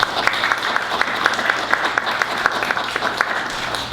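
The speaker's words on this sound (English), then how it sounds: "Let's give another round of applause." Steady round of clapping from attendees at a youth council meeting, dense and continuous with sharp individual claps standing out, lasting the whole stretch with faint voices underneath.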